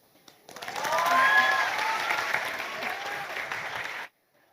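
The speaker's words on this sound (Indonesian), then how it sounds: "sekali lagi kita berikan tepuk tangan yang meriah untuk Jelita Zahra Anggita" An audience claps warmly after a school student's monologue performance, with full applause swelling in and holding steady for about three seconds before cutting off abruptly.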